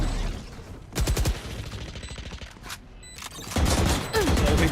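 Gunfire from a wall bang in the tactical shooter Valorant, heard as bursts of rapid shots, loud and close, separated by quieter game ambience and a few sharp bangs toward the end.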